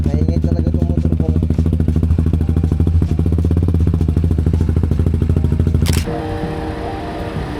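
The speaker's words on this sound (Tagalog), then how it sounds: "Maingay talaga itong motor ko." A noisy motorcycle engine idles with a rapid, rattling clatter, then cuts out abruptly as it stalls, leaving a quieter hum.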